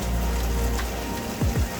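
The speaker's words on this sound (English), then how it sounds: "it's quite a relaxing sound, the rain on the roof" Heavy rain drums steadily on the roof of a Patrol 860 rescue RIB during a thunderstorm, a dense, loud patter that never lets up.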